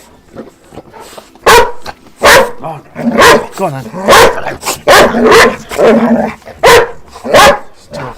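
A dog barks loudly and repeatedly in an uneven series of sharp, close woofs, with a few short vocal yips between them and a person talking briefly.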